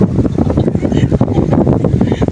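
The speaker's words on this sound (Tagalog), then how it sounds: "Malinaw na tubig oh, may hangin pa oh" Wind buffeting a microphone beside the Daraitan River in Tanay, Rizal, a steady loud rumbling roar that fills the whole stretch, with a faint hint of moving water beneath it.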